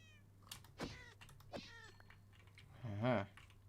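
Minecraft cat meows several times in a game scene, short tonal calls near 0.8 and 1.6 seconds and a louder, drawn-out meow near 3 seconds, over a low steady hum.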